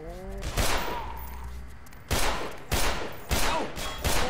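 Gunfire in the video game Black Mesa: Blue Shift, a handful of loud, close shots spaced irregularly across a few seconds, each with a sharp crack and short decay, with no talk over them.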